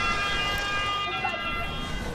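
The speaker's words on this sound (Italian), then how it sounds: "dalla sirena delle ambulanze" An ambulance siren sounds steadily along a busy city street in a mixed neighbourhood, under constant traffic noise.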